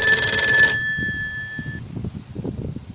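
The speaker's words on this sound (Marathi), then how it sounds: "माझा फोन आला." A phone rings with bright repeated electronic ringtone tones, loud at the start and then cut off after under a second as muffled movement and low voices take over.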